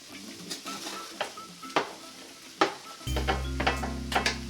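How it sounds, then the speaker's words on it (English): Roasted vegetables tip into a pot of chili with clinks and scrapes of a spoon against the pot, followed by a steady low simmering hum and a few more stirring knocks. "the next thing you'll add is all your roasted vegetables"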